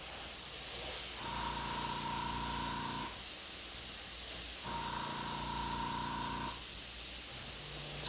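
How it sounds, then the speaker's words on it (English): An airbrush sprays bright white paint onto a death mask stencil in two steady bursts of about two seconds each, a close, even hiss with a faint tone, over constant background noise. "Now we will begin the airbrushing."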